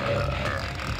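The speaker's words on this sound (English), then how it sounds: "the game has a button mapped solely for burping" A burp sound effect triggered by a dedicated button in an N64 monster truck video game, one sustained low belching rumble lasting about a second, loud and alone.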